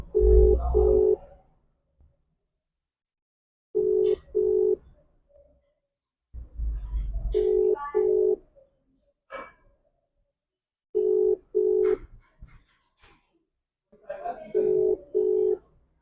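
An unanswered phone call rings out with an Indian-style ringback tone, repeated double beeps in a steady on-off rhythm, several cycles with quieter gaps where faint voices and room noise come through.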